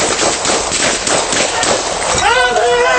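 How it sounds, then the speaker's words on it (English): Rapid bursts of gunfire crack during a police ambush, loud and chaotic, with shouting voices over and between the shots. "Shots fired!"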